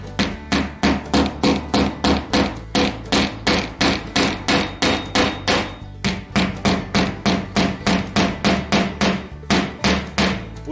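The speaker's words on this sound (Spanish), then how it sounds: "Tomamos dos puntas de 4 y las clavamos aquí." A hammer drives nails into a clay-tile roof in a fast, steady rhythm, dozens of sharp loud blows close by with only brief pauses.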